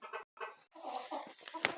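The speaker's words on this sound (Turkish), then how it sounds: "Haydi tavuklar içeri gidiyor arkadaşlar." Chickens cluck softly and intermittently up close as they go into their coop, a short burst of clucks with a brief quiet gap, followed by more murmuring and one sharper squawk.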